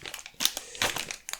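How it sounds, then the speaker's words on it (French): A Naruto trading card booster pack is torn open by hand, giving close, dry crinkling and tearing of foil wrapper in short bursts with no voice. "J'ai l'impression que ces boosters là s'ouvrent plutôt bien."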